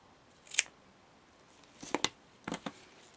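Scissors snip the loose tail strand off a knotted cord bracelet: one crisp cut, then a close double snip and a final pair of quick clicks, near and clear in a quiet room.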